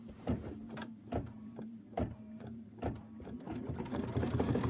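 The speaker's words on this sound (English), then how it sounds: "And then we're going to stitch the leaf 1 through 4 tack down." An embroidery sewing machine stitches a leaf tack-down for a quilted wreath hoop project, a steady mechanical hum with rhythmic needle thumps roughly every second, close and fairly loud, with no voices.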